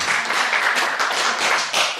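A church congregation claps together, a dense, steady patter of many hands sustained evenly for about two seconds with no break.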